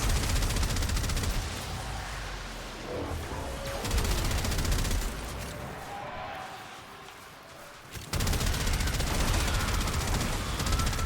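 Rapid machine-gun bursts from a weapon in the video game Warframe come in two spells separated by a quieter stretch, with dense, continuous firing at moderate loudness under faint background game sound.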